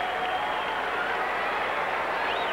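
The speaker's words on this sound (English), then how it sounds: "This crowd is all with him." Softball game crowd in 1985 cheering and clapping steadily, a dense, continuous roar of voices and applause filling the whole stretch at fairly high volume.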